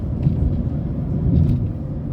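Low, steady engine and road rumble comes from inside a Kia Ceed 1.4 being driven after an engine replacement, a muffled drone with no voices.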